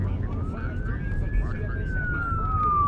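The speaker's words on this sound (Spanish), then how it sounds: "Una patrulla avanza hacia los Estados Unidos." A police patrol car heading toward the United States sounds its siren in one long wail that rises and then slowly falls, over a steady low engine and road rumble.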